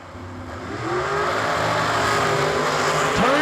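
Drag racing dragsters, a white one and a patriotic-themed one, launch down a drag strip at a New Year Nationals event, heard as a rising roar of engines that swells from fairly distant to loud, with a brief tire-like squeal near the end.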